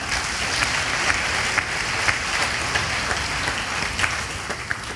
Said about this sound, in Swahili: na leo ni siku ya kuwatambua, tukawapigia makofi mazuri